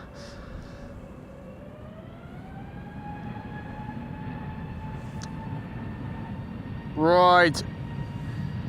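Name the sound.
EasyJet Airbus A320neo departing Amsterdam Schiphol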